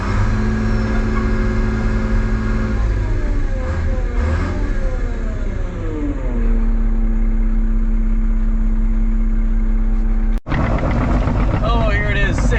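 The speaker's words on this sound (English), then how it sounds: "I should run the truck enough to charge the batteries up so that it'll actually start again." A truck's engine runs near and steady to charge its batteries, idling with a couple of revving swells before settling into an even drone. A sharp knock breaks in near the end.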